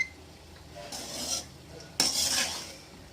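Scraping and stirring tamarind rice in a metal pot, two bursts of spoon-on-pan rasping with a short pause between, close and fairly quiet, no voices.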